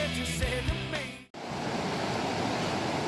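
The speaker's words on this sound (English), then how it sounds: "Kind of hard to hear me over all the rapids" River rapids rush with a dense, continuous roar of churning water, close and loud, after a brief burst of other sound that cuts off abruptly.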